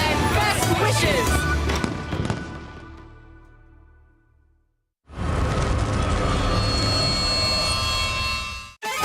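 Fireworks bursting at a Chinese New Year celebration, with dense loud crackling and booming that fades away, a silent gap, then a second sustained barrage.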